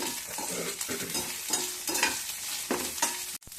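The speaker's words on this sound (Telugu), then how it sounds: "ఈ పచ్చిమిరకాయలు కరేపాకు వేపేశాను" Green chillies and curry leaves fry in oil during gobi pakoda preparation, a close, steady sizzle with repeated stirring scrapes roughly every half second and a brief sharp knock near the end.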